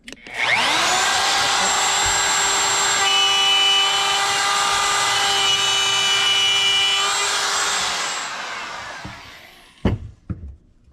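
Power tool cutting a groove into wood for DIY pantry drawers, a loud steady high-pitched whine that runs several seconds, then winds down, followed by a few knocks.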